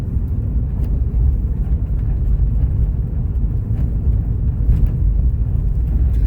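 A car rolls along a remote Alaska road, a steady low engine and tyre rumble close to the microphone, with occasional faint knocks from the rough surface and no talking.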